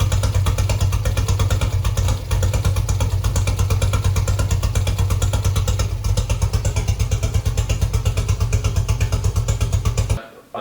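Skoda 120L car engine idling steadily, a loud, close, even throb with rapid regular pulses and some mechanical clatter, alone without speech, before cutting off abruptly near the end.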